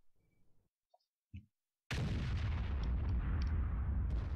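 A booming tank cannon shot in World of Tanks from a Bat.-Chatillon 155 artillery gun, a sudden loud blast after near silence, followed by a sustained rumbling roar that fills the rest of the moment.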